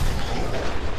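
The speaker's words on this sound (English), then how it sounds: "that was a big explosion" A big explosion in the Fallout 4 video game booms loudly, a single dense, rumbling blast that fills the whole moment with no talk over it.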